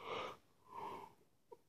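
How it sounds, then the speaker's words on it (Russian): A man yawning twice in a row, two breathy, drawn-out exhalations close to the mic, the first stronger, followed by a faint click. "Блин, зеваю, зеваю."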